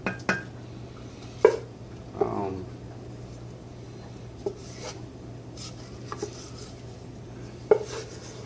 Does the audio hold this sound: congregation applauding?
no